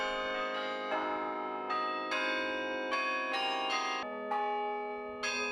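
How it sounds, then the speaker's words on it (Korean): Carillon bells of tuned bronze in a tower, played by lever and pedal, ring out a slow sequence of resonant struck notes, each chime blooming with long overlapping sustain and shimmering overtones, clear and without voices. "카리용의 은은한 종소리는"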